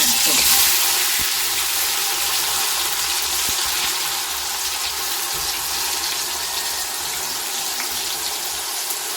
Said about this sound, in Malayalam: ഇനി അത് നമുക്ക് വറുത്തെടുക്കാം വഴുതനങ്ങ വറക്കാൻ വേണ്ടി